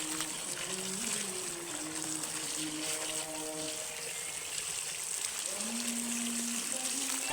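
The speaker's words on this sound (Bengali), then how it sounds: "তো আমি এখানে পাইপ দিয়ে ধুয়ে নিচ্ছি" Water from a hose pipe runs steadily over eggshells held in a mesh sieve, a constant close splashing wash with faint tonal voices or calls in the background.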